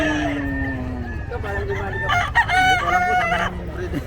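A fighting rooster at the Bocaue pet market crows loudly and nearby, one long call followed by another rougher, broken crow, over the murmur of a busy market.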